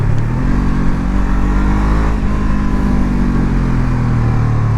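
A 2017 Honda CBR 500 R twin-cylinder motorcycle engine runs loud and close, a steady low throbbing drone with a slight rise in revs, heard alone.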